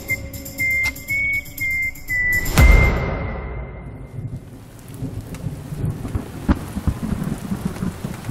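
A storm effect in a Bengali mystery thriller audio drama: a deep, booming thunderclap rolls out over steady rain, preceded by a few tonal musical beeps, then the rain keeps falling with scattered drops and patter.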